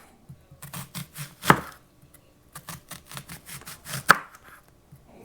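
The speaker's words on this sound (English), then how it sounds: "And now I'm gonna cut up my onion." An onion is cut into long strips on a board with a knife, producing close, crisp chopping taps in quick bursts, punctuated by two sharper, louder knocks, with short pauses between runs.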